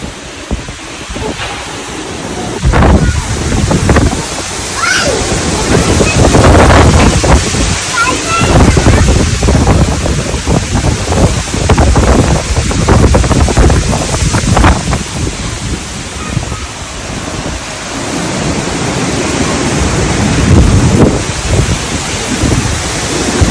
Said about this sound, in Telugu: ఓ నాయన, ఊరి పెద్ద గాలే